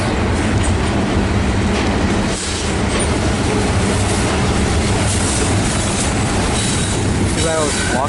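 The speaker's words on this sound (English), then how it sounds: "Too bad I was blocked by this grain train." An empty grain freight train rolls past close by in a rail yard, a loud, steady rumble of wagons with clattering wheels and a brief squeal near the end.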